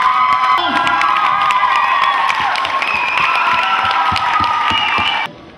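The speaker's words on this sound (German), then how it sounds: "bitte, Junge, einen ganz dicken Applaus" A crowd at a rap and dance event for the rainforest cheers, whoops and applauds a young rapper, with children shouting; loud, continuous and sustained, cutting off abruptly near the end.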